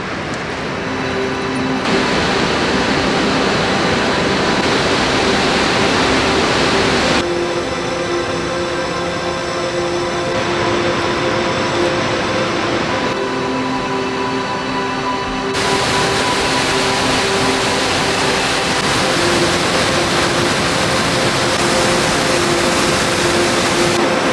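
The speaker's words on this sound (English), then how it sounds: "the top of the waterfall, but it's so loud" A loud, steady roar of rushing water from the top of the Krimml waterfalls in Austria fills the whole stretch, broadband and constant, with a faint tonal hum running underneath.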